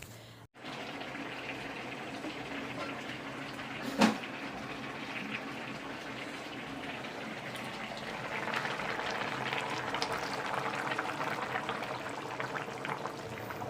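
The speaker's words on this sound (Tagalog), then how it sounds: "So, pakukuluan ko pa siya. Bali, para masipsip niya yung pinakaunang piga." Laing simmering with the first pressing of coconut milk in a pot, a steady, soft bubbling and sizzling that carries on throughout, slightly livelier toward the end, with one brief clink near the start.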